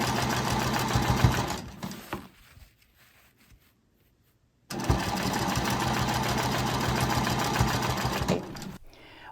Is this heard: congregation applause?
no